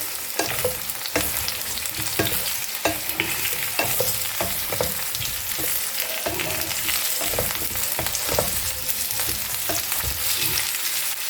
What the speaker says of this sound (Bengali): যেটাকে একটু নাড়াচাড়া করবো, তারপর মশলাটা দিয়ে দেবো।